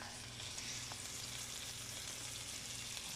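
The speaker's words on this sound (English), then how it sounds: "you hear that sizzle?" Steady, close sizzling of burgers frying in butter in a hot pan, a continuous crackling hiss with no talking.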